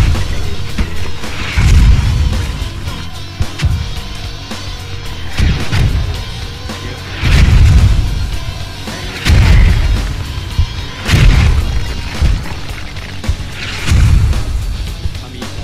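Mortar shells detonating in the game Squad, a series of about six heavy, booming blasts spaced a couple of seconds apart, each with a sharp crack and rolling low rumble, loud and close with no talk.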